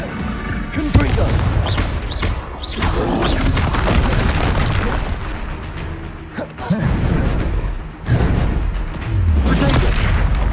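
Confringo fire-spell explosions during Hogwarts Legacy combat: loud, repeated booming blasts over a dense, continuous battle din, with in-game voices between them.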